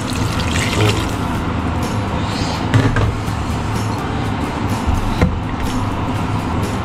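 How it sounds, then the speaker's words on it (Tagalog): Water pouring steadily into a pot of pork caldereta, a continuous splashing rush with a couple of brief clinks, close and fairly loud. "Tapos nagdagdag din ako ng tubig guys"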